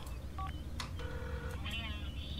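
Phone dialing tones in The Sims 4 chirp in short electronic beeps and bursts over a low game backdrop, with a voice speaking alongside.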